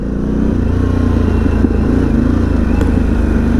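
Harley-Davidson Pan America motorcycle engine running steadily near the listener, a dense, continuous low rumble at constant loudness with light mechanical clatter and no clear rise in pitch.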